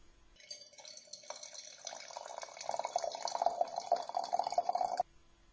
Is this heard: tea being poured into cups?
yes